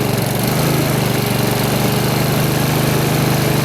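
Honda HRX2174HZA lawn mower engine just after an auto-choke start, running loud and steady up close with a slight surging rise and fall in pitch and no talking over it.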